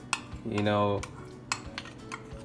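A spoon clinks and scrapes around a bowl while yogurt, oil and besan are stirred together for a paneer tikka marinade, giving sharp metallic taps and a short rubbing stretch, close and clear with no talk.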